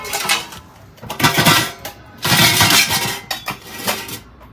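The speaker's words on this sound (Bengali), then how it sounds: "এটা হচ্ছে ঢাকনা সহ একটা ডেকচি" An aluminium cooking pot with a lid, salvaged from an old ship's kitchen, handled up close with loud metallic clanks, scrapes and lid rattles in several bursts.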